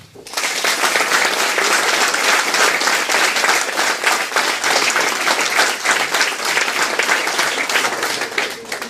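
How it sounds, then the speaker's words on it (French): Sustained audience applause fills the hall at a CGT rail workers' union sector conference in Paris Saint-Lazare, a loud, dense wash of clapping holding steady for about eight seconds with no talk over it. "On peut les applaudir."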